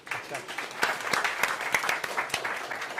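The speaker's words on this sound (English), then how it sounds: "Let's have a round of applause for the two of us." Applause from an audience, a steady patter of many hands clapping that swells and holds for a few seconds, with a faint voice underneath.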